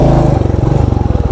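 A Royal Enfield Classic 350 BS6 motorcycle engine idles close by with a deep, fast, even thumping beat, loud and steady for a brief moment.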